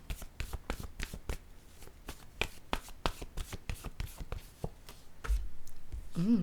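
Tarot cards are shuffled by hand for a reading, a rapid run of crisp riffling slaps close up, ending in a brief softer rustle.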